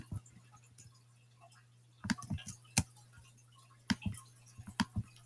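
Computer mouse clicking while working in Scratch programming: sparse, faint clicks, some in quick pairs and clusters, over a steady low electrical hum in a quiet room.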